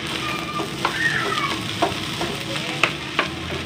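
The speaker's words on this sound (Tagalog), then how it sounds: "Ayan, haluin lang natin." Fried rice with plenty of green onion sizzles steadily in a pan while a utensil stirs it, leaving scraping clinks and soft clacks at intervals over the continuous frying hiss.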